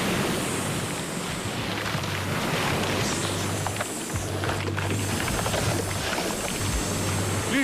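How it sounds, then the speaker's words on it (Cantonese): A radio drama effect of the sea suddenly rising and churning, with continuous surging waves and wind roaring at a steady level, a low tone pulsing intermittently underneath. "水突然上漲，海浪係咁翻騰。"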